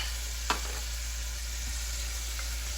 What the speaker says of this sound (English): I'm going to put in my mushroom.